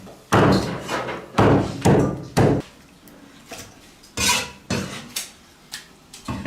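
A whole farm-raised chicken is chopped with a cleaver on a board, with heavy, irregular thuds and a few quicker clusters of blows, loud and close, with no talk.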